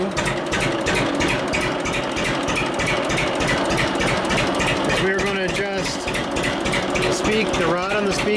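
A small engine with a throttle speed control runs slowly at about 300 RPM, a steady mechanical chugging with rhythmic clicking and rattling parts, close and continuous, with brief squeaky whines near the end.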